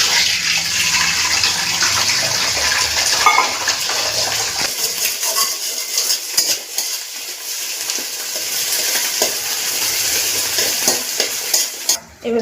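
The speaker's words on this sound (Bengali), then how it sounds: "ডিম দুটো আগে ভেজে নেব।" Two beaten eggs fry in a little oil in a pan with a loud, steady, hissing sizzle that eases off partway through, broken by a few stirring clatters and a sharp knock at the end. No talking.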